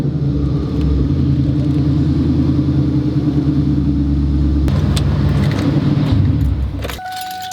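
Ford Mustang on Mickey Thompson ET Street R tires, a deep steady engine rumble close by that holds for several seconds and then drops off as the car pulls away.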